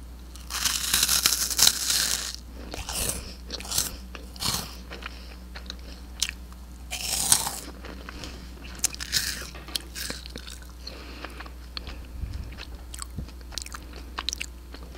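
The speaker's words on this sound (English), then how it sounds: "we're going to try some Cheeto Puffs because they're crunchy." Loud, close crunching and chewing of Cheetos Puffs in irregular bursts, with crisp bites and quieter munching between them.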